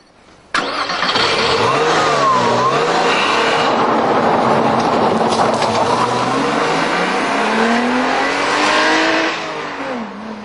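A Porsche Boxster roadster's flat-six engine fires up sharply, then revs loudly and steadily with rising and falling pitch before easing off toward the end.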